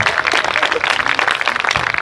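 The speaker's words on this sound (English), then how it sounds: "give another round of applause for the band" Applause for the band at a school band parent night fills the hall, dense irregular clapping from a seated audience at close to moderate distance, with some voices mixed in.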